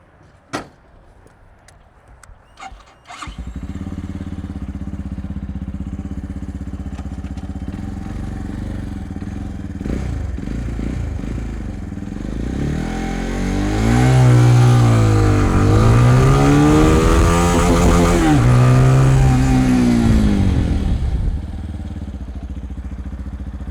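The Walmart motorcycle starts with a few sharp clicks and a pause, then its engine idles and launches hard. It revs up through rising and falling gear sweeps and stays loud and close before cutting back to a lower hum.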